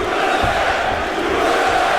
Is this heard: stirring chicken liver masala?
no